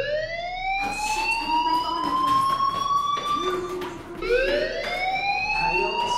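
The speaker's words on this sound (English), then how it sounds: "Hey, do you hear that fire alarm?" A fire alarm in the Life Is Strange video game wails continuously in a loud electronic tone that slowly rises then restarts, with faint background game sounds and occasional muffled voices beneath.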